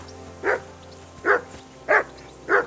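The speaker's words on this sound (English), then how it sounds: "whistle at that mutt of yours to stop barking." A dog in the video game Kingdom Come: Deliverance II barks four times at an even spacing, loud and close, each a short bark over a quiet low background hum.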